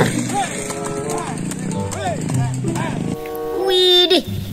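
A horse neighing near the end, a rising and falling whinny, after a stretch of lively voice chatter with bouncy sound effects.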